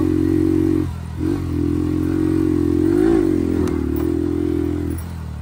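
Enduro motorbike ride, a loud, close engine drone with a steady buzzing tone, briefly dropping off near the start, then holding and rising slightly with some clattering and scraping before easing toward the end.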